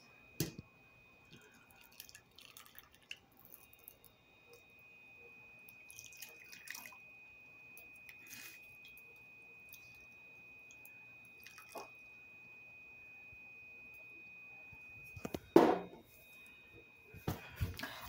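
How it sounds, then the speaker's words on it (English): Water drips quietly before a brief pour splashes onto soil for planting a mango seed near the end, all faint and close, with no talk. "We got the water in."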